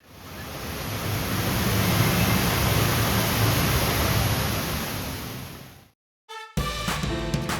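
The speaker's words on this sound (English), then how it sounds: "But first, listen to how loud it was with the waterfall." A loud indoor waterfall at the Mohegan Sun casino roars as a steady, dense wash of falling water for about six seconds, then cuts out briefly before other busy sounds return.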